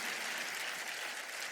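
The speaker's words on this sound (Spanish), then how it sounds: "Dele un aplauso al Señor" A church congregation claps in a steady, dense wash of applause, loud and continuous throughout, with no other sound rising above it.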